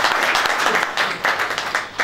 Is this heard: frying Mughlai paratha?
no